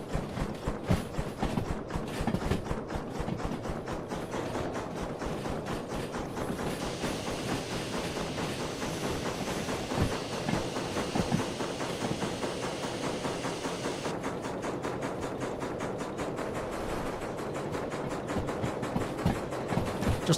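Steam locomotive in Derail Valley working under throttle, rhythmic chuffing and clanking wheel beats repeating steadily at close range, with a hissing layer of steam in the middle stretch.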